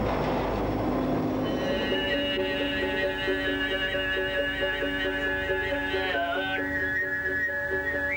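The Indian Pacific passenger train rumbles steadily in motion across Australia, with sustained metallic tonal hums and squeals running throughout, no voices.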